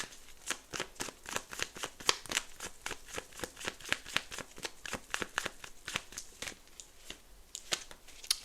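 Tarot cards are shuffled close up in quick, crisp bursts of riffling and flicking, a steady run of sharp papery snaps at a soft level with no voices.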